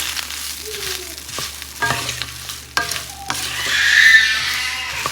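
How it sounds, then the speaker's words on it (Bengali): Puffed rice being fried and stirred in a pan, close scraping and rustling strokes with sharp clacks of a utensil against the metal, under a hissing sizzle that swells toward the end. "তার মধ্যে মুড়ি দিয়ে দেবো এই মুড়ি ভাজা করলে আমার অনেক দিন চলে যায়"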